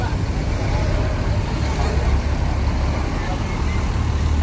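New Putra Remaja buses depart a terminal at peak return-travel time, giving a loud, steady engine and traffic drone with no clear speech.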